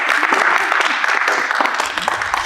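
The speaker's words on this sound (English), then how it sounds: "Go ahead, clap." A seminar audience breaks into sustained applause, a dense wash of many hands clapping at steady loudness for a couple of seconds.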